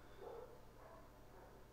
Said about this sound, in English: Dogs barking because they are cray cray.